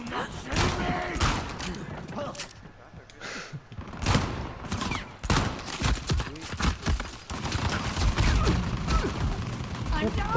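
Rapid, repeated gunshots in the multiplayer shooter Uncharted 4, loud and irregular across the whole stretch, with people talking over the firing.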